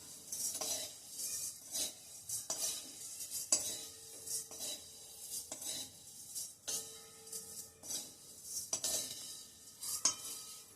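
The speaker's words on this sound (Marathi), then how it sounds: "असं 2 झाऱ्यांनी भाजल्या म्हणजे मग त्याचे फार तुकडे किंवा भुगा होत नाही" Dry-roasting vermicelli in a pan, stirred with two slotted spoons: close, repeated metallic scrapes and clinks in an irregular rhythm over a faint background, with no talk.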